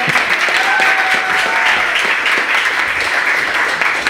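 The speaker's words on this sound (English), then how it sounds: "we should give him a round of applause" Audience applause for a Brooklyn organizer of unemployed workers at a political rally, dense steady clapping throughout with a voice briefly audible above it.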